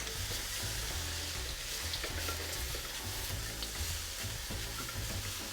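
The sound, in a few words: Chinese fried rice sizzling in pan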